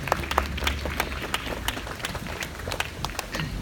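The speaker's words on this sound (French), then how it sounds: "Je crois qu'on peut vraiment les applaudir." Applause from the audience at an 11 November 2017 commemoration ceremony, a fairly faint but steady patter of many hands clapping, continuous and uneven throughout.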